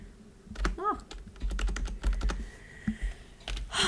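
Clattering keystrokes on a computer keyboard, close and crisp, in an uneven run of quick taps with short pauses, and a brief tone-like sound near the start.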